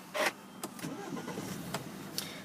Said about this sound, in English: just getting the car started